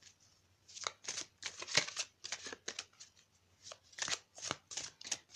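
Oracle cards being shuffled and drawn, a soft papery riffling in quick repeated bursts, close and fairly quiet, with no talk over it.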